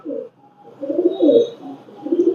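A Chinese teddy pigeon with a closed tail, brought from Pakistan or Oman, gives soft, close, low cooing in two or three rounded phrases with a short pause between them, heard alone without speech.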